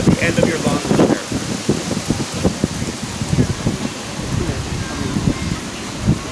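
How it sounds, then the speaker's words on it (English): Steady rain falls outdoors as a broad hiss with scattered droplet patter, while people talk close by throughout. "Is it gonna rain? I felt some rain."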